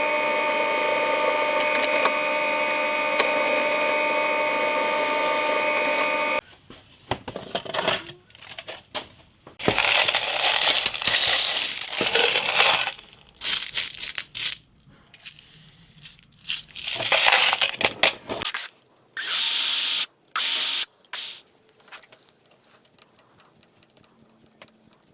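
A wooden piece is screwed onto a guitar body made from fence boards, with bursts of close driver whirring, creaking and crackling between pauses, after an opening stretch of steady electronic tones.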